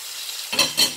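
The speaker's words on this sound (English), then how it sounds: "There's a very reassuring sound of meat being cooked." Meat placed in hot fat sizzles and crackles steadily, with two brief louder bursts of spitting near the end.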